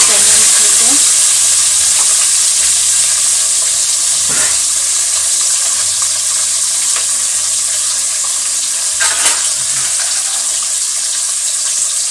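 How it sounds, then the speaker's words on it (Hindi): Fish frying in hot oil in a large covered kadhai (wok) for a Manipuri-style fish curry, giving a steady, close sizzle throughout with a couple of brief clattering knocks and no talking. "अभी मछली पक रही है।"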